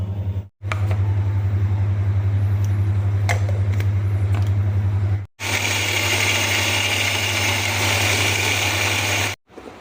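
A kitchen mixer grinder grinding coconut whirs loudly in two long bursts separated by brief stops, the second burst harsher and higher-pitched.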